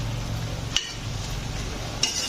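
Biryani masala sautéing on high flame in an open pot, a soft steady sizzle with two sharp utensil clinks against the pan.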